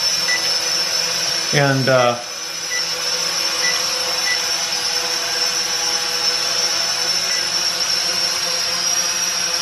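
A small iFlying toy drone hovers just after takeoff, giving a steady, even whine that continues throughout, with a brief spoken word early on.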